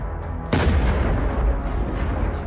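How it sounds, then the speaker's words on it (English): A heavy blast from an FPV drone striking a tank in an armored column: a sudden loud burst, then a sustained low, rolling rumble that fills the rest of the moment. "Explosions ripple through the formation."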